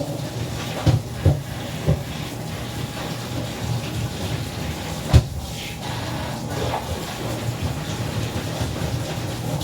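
Tap water runs steadily while okra and potatoes are rinsed in a home kitchen, a continuous hissing wash with a few soft knocks and clatters near the start and one sharp bump midway.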